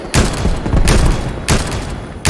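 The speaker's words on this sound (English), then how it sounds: "Yellow something in the sky, there's fireworks." Fireworks burst in the Fortnite video game: four sharp, loud cracks spaced roughly evenly over a couple of seconds, each with a short rumbling tail, and no talking.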